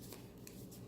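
Large oversized oracle cards being shuffled by hand, a soft papery riffle and slide with a few faint bursts of card noise over a low background hum.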